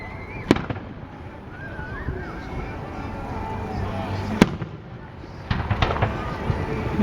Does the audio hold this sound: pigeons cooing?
no